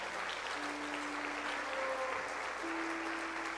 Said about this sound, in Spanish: Le podemos dar un fuerte aplauso al Señor en esta mañana.